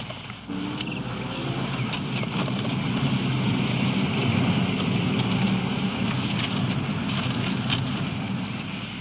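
Heavy rain pours steadily as a sound effect in a 1954 radio police drama, a dense continuous hiss with no voices.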